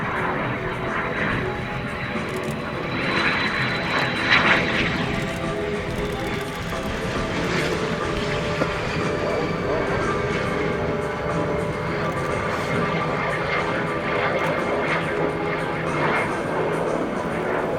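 A de Havilland Vampire jet with a de Havilland Goblin turbojet roars in and sweeps past low and loud at an air show, over 400 mph and 25 feet up, its engine noise swelling and fading as an announcer talks over it.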